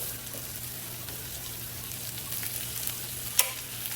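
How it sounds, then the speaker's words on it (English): Asparagus sizzling and frying in a hot pan alongside lobster tails and sweet potatoes, a steady broadband crackle that holds evenly throughout with one brief sharp pop near the end. "Now we're gonna just add the asparagus"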